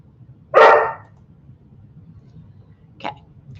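A dog barks once, loud and close, during a nail-care session, followed a few seconds later by a fainter short bark.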